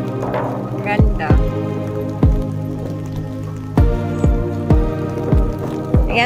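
Rain falls in the small Italian city of Brixen, with distinct drops landing sharply on a nearby surface at irregular intervals over a steady background hum.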